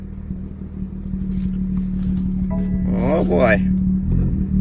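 A rebuilt BMW M2 from an auction fires up for its first start and settles into a steady idle, a loud, close engine hum running throughout while someone briefly speaks over it.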